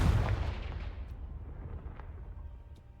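In Hogwarts Legacy, the Confringo blasting spell sets off a loud, deep explosion that booms at once and then rumbles and fades over a few seconds, with faint debris crackles in the tail.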